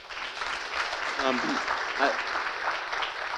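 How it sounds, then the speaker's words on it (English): A forum audience gives a round of applause, a sustained, even clatter of many hands filling the room, with a voice briefly speaking over the clapping. "Give her a round of applause."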